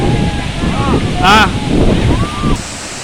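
The broad, steady roar of Tarabu waterfall, buffeted by strong wind, with a person speaking excitedly over it.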